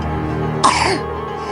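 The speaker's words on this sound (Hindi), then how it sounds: "बच्चे ने जोर से खांसना शुरू किया।" A child coughs hard once, a sudden harsh burst rising out of a steady low background hum, close and loud, then fading quickly.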